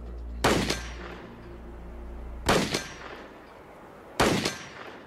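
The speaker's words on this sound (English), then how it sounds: "Let's put a couple rounds through here and we'll see how fast this ammo goes." Three ammunition rounds fired one after another through a chronograph at a velocity test, each a loud, sharp crack with a ringing tail, spaced roughly two seconds apart and close by.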